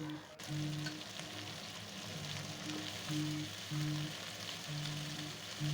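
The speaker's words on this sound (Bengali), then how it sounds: "আমি সমস্ত উপকরণগুলি ভালো করে তেলে একটু ফ্রাই করে নিচ্ছি" Spices and drumstick flowers frying in hot oil in a pan, a steady close sizzle and crackle running throughout with faint clinks of stirring in the background.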